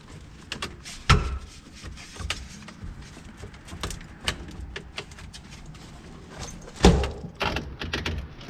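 A steering column is wiggled and tugged loose from the firewall of a Chevy S10 pickup, giving close, sharp knocks and clunks, with two louder thumps standing out over scattered rattling and scraping.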